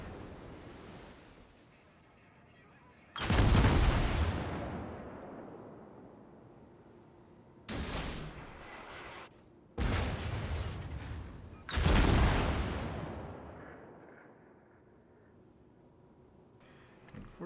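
Warship guns firing in World of Warships at sea, four heavy booming blasts in irregular succession, each trailing off in a long rushing roar, loud and with no talk.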